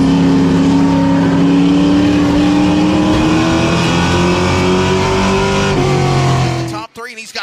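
Race car engines drone loudly and continuously on an asphalt track, pitch climbing gradually as they accelerate, with a commentator talking over them throughout.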